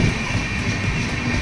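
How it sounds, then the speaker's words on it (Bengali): A train rolls into Bardhaman station, a close, steady rumble of wheels and carriages with a faint rhythmic clatter throughout. "ট্রেন এখন বর্ধমান স্টেশন ঢুকছে"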